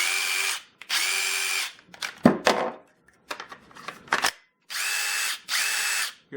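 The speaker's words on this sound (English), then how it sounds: "You can dramatically hear the difference." A DeWalt Atomic impact driver running on a full battery, with several loud close bursts of high-pitched motor whine separated by clattering handling noise and brief silences.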